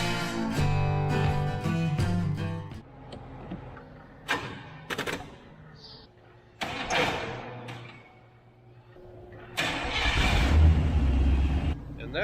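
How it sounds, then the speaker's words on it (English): A car engine cranks and starts after its battery has been dead, with rough revving bursts and a rumbling idle that fade in and out among clicks, clanks and people talking nearby. "that's how you start a vehicle after the battery's been dead"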